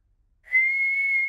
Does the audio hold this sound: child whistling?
yes